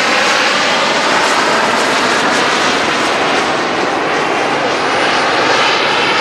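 An A-10 military jet roars loudly and steadily through a flypast at an air show, a sustained engine rush with no speech over it.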